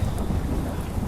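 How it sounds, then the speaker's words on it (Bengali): A fierce nor'wester storm at night brings a dense, loud roar of heavy rain with deep rumbling thunder, a continuous low, full wash with no voices. "প্রবল বৃষ্টি এবং বাজ পড়ার বিকট শব্দে কান ঠিক থাকা দায়।"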